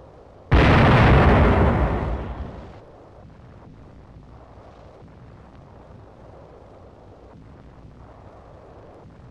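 Artillery round exploding in 1944 wartime newsreel footage: a single loud, sudden blast that roars and decays over about two seconds, followed by a faint lingering rumble.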